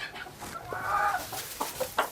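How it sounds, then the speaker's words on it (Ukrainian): Ornamental chickens in a backyard enclosure cluck and squawk nearby, a few short calls and one longer drawn-out cackle, with no talking. "Давайте зазирнемо в вольєр моїх курок."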